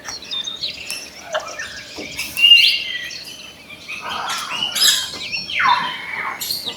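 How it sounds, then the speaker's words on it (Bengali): Several birds chirp and squawk inside an aviary at Gazipur Safari Park in Bangladesh, with scattered calls near and far and brief louder bursts over a quiet background. "পাখিগুলো একটু ডাকতেছে।"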